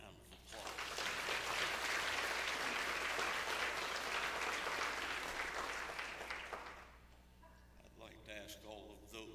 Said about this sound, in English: let's give Miss Pam a round of applause.